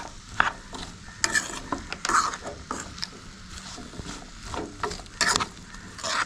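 A spoon scrapes and stirs spiced knol khol curry in a pan, with repeated sharp clinks and scrapes against a soft background sizzle of frying.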